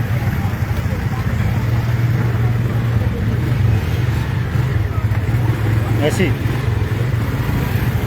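A motorcycle engine idles and rumbles steadily close by in a funeral procession heading toward a church, its low drone running throughout beneath loud voices and crowd talk.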